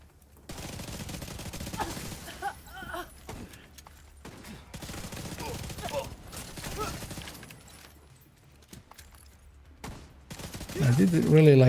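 Rapid gunfire rings out in bursts while enemies are shot in a player-versus-enemy video game, with someone talking throughout and a louder rush of game noise near the end.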